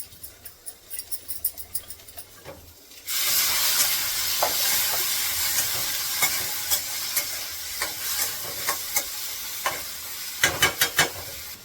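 A sharp hiss erupts as liquid hits a hot pan, settling into steady sizzling with repeated scraping clinks of stirring, then a brief burst of louder clatter.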